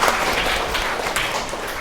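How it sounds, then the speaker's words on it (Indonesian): A short burst of applause from a class, steady clapping filling the room at close range. "Beri tepuk tangan."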